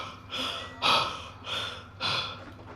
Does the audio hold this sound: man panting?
yes